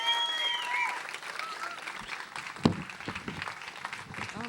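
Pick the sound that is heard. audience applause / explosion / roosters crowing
audience applause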